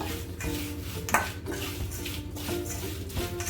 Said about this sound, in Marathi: आता त्यामध्ये आपण थोडी कोथिंबीर घालूया आता हे आपण मिक्स करून घेऊ